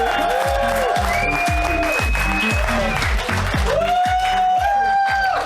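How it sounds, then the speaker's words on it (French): Applause from a comedy show audience rings out over lively music with a thumping beat, the clapping blending into the mix at an even level throughout. "On peut applaudir Oussama et Émilie, mesdames et messieurs"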